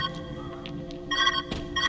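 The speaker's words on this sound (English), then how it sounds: "Where's that ringing coming from?" An electronic phone ring in the video game Viewfinder repeats in short bursts over a steady tonal background hum, fairly clear and close.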